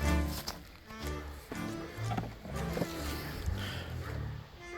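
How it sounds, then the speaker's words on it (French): A waterfall pours steadily nearby, its broad rushing wash filling the whole stretch at an even level without a break. "Ça a l'air de couler un feu la cascade."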